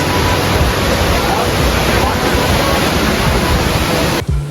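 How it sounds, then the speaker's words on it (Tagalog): A waterfall in Cat Cat Village near Sapa, Vietnam, pours as a loud, continuous broadband roar that fills the whole stretch, close by and steady, with no break until it cuts off right at the end. "Yan na yung falls! Sarap sa tenga!"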